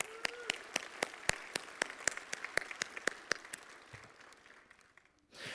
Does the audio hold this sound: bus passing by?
no